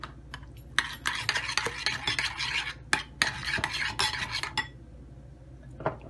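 Shredded cabbage, carrot, sugar, milk and yogurt for a zinger burger slaw are mixed in a bowl with a spoon, making bursts of wet scraping and clinking, close up, with brief pauses between strokes.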